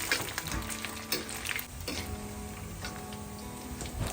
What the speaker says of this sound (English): It's time for the second fry to really crisp up the pork belly.